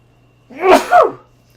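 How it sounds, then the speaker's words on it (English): A single loud, close sneeze in two quick bursts, a sharp intake then explosive release, with near silence around it. "Whew, that was quite a sneeze."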